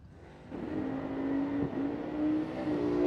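A drag racing car at the No Delay Nationals throttles back, its engine holding a steady mid-pitched drone that swells gradually in loudness over a background of rumble, with no voices.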